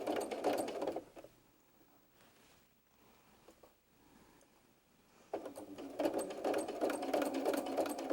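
A sewing machine stitching a fabric baby bib, running in two loud rapid bursts at the start and end with a quiet pause between them, close and without talking.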